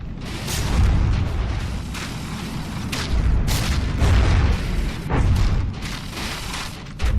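Ammo box blowing apart in the From the Depths naval combat game, with repeated heavy booming blasts in several bursts over a continuous low rumble of gunfire and machinery, loud and close.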